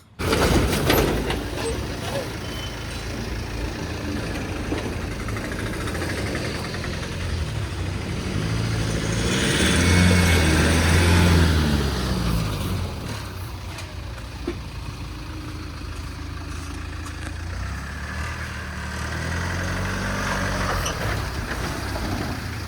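Engine of a 2023 Mahindra Yodha 2.0 AC pickup truck running steadily at idle, a continuous low rumble that swells briefly midway, with someone talking over it throughout.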